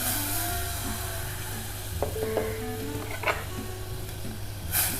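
Quick oats cooking in hot milk in a pan, with soft bubbling and spoon stirring scrapes and clinks over a low steady hum, close and moderately quiet.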